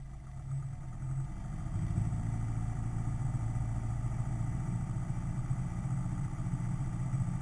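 A light aircraft engine held at 1700 rpm on the ground, a steady low droning rumble that rises slightly in the first second and then stays constant and close, with a faint high tone above.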